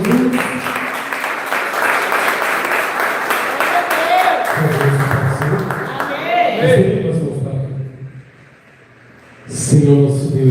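A church congregation applauding during a worship service, with broad clapping under a loud voice speaking over it, then the applause fades into a brief lull before the voice resumes.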